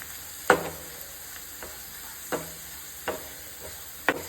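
Spices and sugar being mixed in a pan for egg lababdar, a low sizzle punctuated by four sharp knocks of a spoon against the pan at uneven intervals, close up with no voices.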